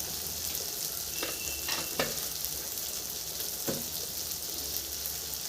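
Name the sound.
ingredients frying in oil for Bengali fish curry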